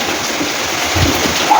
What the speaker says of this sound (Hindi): हल्का हल्का हवा भी है और हल्का हल्का बारिश भी है। बारिश तेज है।